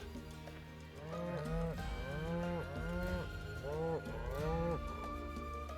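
A cow in Final Fantasy VII Rebirth, set in Gongaga, gives a string of drawn-out moos, four or five fairly loud calls in a row over a quiet background, with no talk.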